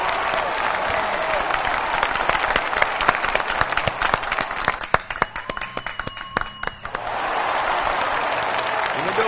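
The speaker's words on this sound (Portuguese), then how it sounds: "vamos bater palma pra ele, vamos bater palma pra ele" A studio audience applauds a guest, professor Afonso Pola, on the Nilo Guimarães program: sustained crowd clapping with sharper individual claps near the middle, a brief tonal sound, then the applause swelling back to an even wash.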